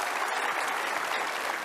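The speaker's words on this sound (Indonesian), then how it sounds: "Kasih tepuk tangan dong Saud Situmorang." Studio audience applauding at a televised talk show event, dense steady clapping from many hands filling the room without a break.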